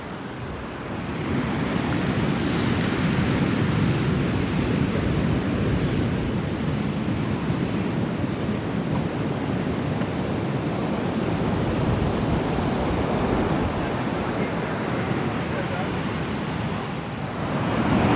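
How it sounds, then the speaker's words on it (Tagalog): Large ocean waves break continuously on a sandy shore near a shipwreck, a loud, broad, rushing roar mixed with wind buffeting the microphone, with faint talking underneath. "Guys, lalaki ng mga alon,"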